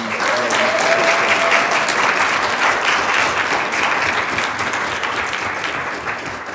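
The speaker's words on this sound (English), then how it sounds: "Can we please clap it up for these?" Audience applause fills a city council meeting chamber, a steady wash of many hands clapping that holds strong for several seconds before tapering slightly at the end.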